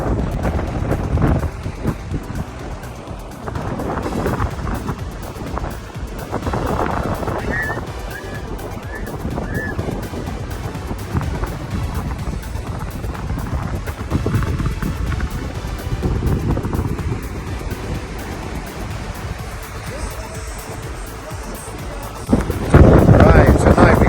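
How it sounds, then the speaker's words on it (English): Strong wind at a lifeguard lookout tower on Playa Marlin, Cancun, buffets the microphone throughout, a constant low roar with gusts, while a person talks over it; it surges louder near the end. "I don't know if you can hear me very well because it's so windy."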